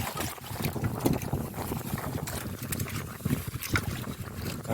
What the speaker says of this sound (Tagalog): Lumakas pa yung hangin eh